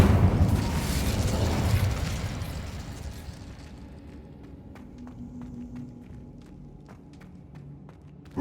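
A roaring burst of fire from the Incendio spell in Hogwarts Legacy rushes loudly and fades out, leaving quiet rumble with light footsteps and small ticks.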